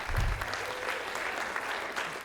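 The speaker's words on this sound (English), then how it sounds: "you can give him a clap" An audience claps for Jack McKinney at a sports and education event, a steady, moderately loud wash of many hands that swells briefly at the start and holds evenly throughout.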